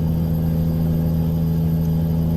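Truck engine held at full throttle in American Truck Simulator, a steady, loud, droning mechanical hum with a strong constant low tone and no change in pitch, heard alone.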